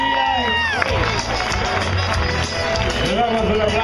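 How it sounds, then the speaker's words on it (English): A fairground rodeo crowd at the 2014 Ventura County Fair cheers and claps for extreme team bronc riders. Loud, continuous crowd noise carries whoops and shouting voices, with scattered clapping mixed into the roar. "How about a big round of applause for all of your extreme team bronc riders?"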